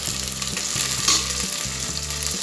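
Curry leaves hit hot oil with browned onions in a pan, giving a loud, steady sizzle and crackle with a few stirring scrapes.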